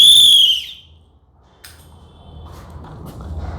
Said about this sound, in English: So I will blow the whistle before this.